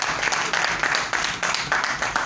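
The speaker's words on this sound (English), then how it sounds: "A round of applause for him." An audience applauds steadily for the Chief of Staff at a product unveiling in Lagos, a dense, continuous patter of many hands lasting the whole moment with no clear speech over it.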